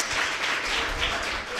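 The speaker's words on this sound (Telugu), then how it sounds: "దేవునికి సార్ చప్పట్లు కొట్టలే." Congregation clapping for God during a church service, a dense, continuous wash of many hands beating together that stays steady and fairly loud throughout.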